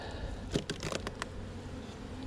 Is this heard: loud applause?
no